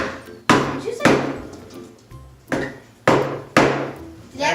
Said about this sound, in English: Abby, you want to hammer one?